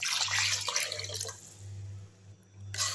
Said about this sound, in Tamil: இப்போ இந்த புளி தண்ணி எடுத்து ஊற்றிடலாம்.